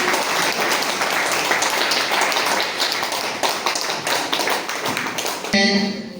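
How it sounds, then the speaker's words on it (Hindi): Applause from a college audience at a Constitution Day event in Jawanga, Dantewada, Chhattisgarh: dense, steady clapping throughout, loud and close, ending abruptly. "तालियां बजती रहनी चाहिए"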